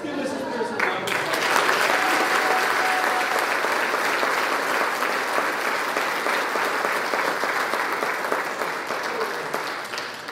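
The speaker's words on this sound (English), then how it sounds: "Let's give Mrs. Pearson a round of applause." A high school class night audience applauds a retiring teacher, the clapping swelling quickly into a loud, sustained roar of many hands that holds steady, with some voices mixed in.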